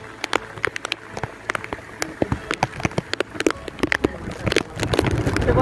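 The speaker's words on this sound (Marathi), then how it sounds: "वरती आल्यावर खूप जोरदार पाऊस सुरू झाला आहे." Heavy rain at the top of the Gorakhgad fort trek, with close, irregular drops pattering and smacking onto nearby surfaces over a rushing wet hiss, growing denser toward the end.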